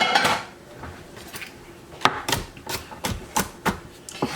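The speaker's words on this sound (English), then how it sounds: "4 cloves of garlic I'm gonna mince up and throw in here" Kitchen knife chopping and mincing garlic cloves on a cutting board for an enchilada filling, a run of sharp, close taps that quicken and grow louder in the second half, with no talking.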